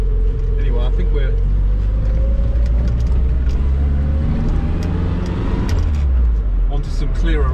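An MG Midget driving on a road after rain, its engine droning low and steady with some shifts in pitch and tyre and road noise throughout, fairly loud and close from inside the car.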